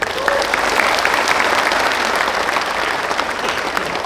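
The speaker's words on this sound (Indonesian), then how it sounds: "Tepuk tangan." Sustained applause from a large audience at a gathering of students and parents in an Indonesian hall, a dense, steady clapping that continues loudly throughout.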